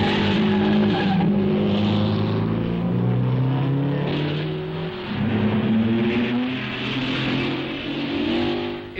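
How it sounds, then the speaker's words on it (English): Racing cars scream past the pits during a motor race, loud engines rising and falling in pitch as they pass with tire squeal, a continuous close roar with no talk. "On lap 20, Hawthorne and Collins scream past the pits, straining every nerve, with Fangio snapping at their heels."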